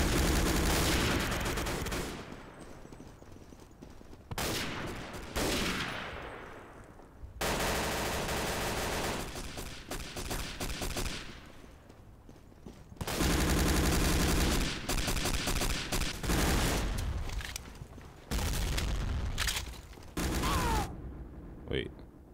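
Loud gunfire in Day of Defeat: Source comes in several dense volleys of rapid automatic fire and sharp shots, separated by brief lulls with lingering echoes.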